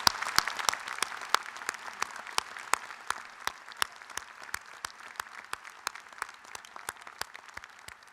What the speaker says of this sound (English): would you all please join me in a round of applause for all of those families